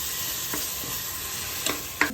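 Ginger garlic paste sizzles in a pan while chicken biryani cooks: a steady, fairly soft frying hiss throughout, with a few brief stirring scrapes near the end.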